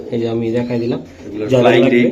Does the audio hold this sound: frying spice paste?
no